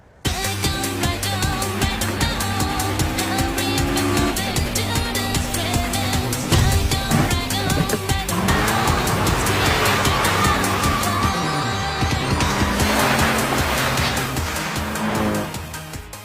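A car drives off hard on a mountain road, its engine revving loudly and continuously with tire squeals and skidding layered over the roar for the whole stretch.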